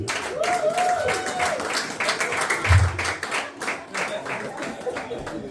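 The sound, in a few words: wedding guests applauding the newlyweds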